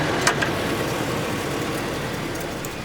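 Engine of a 2007 Chevy with a 4L80-E transmission running, a steady, continuous low rumble close by, with no talk.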